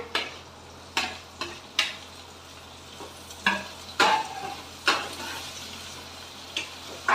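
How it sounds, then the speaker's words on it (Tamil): Tomatoes cooking down with onions in a pan for vada curry, a low sizzle punctuated by spaced spoon scrapes and knocks against the pan at an irregular pace. "தக்காளி நல்லா வதங்கட்டும்"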